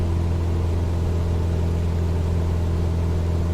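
A steady, droning propeller aircraft engine from Microsoft Flight Simulator 2020 hums at cruise power, a constant low-pitched tone with even rumble and no change in pitch, heard alone with no talk.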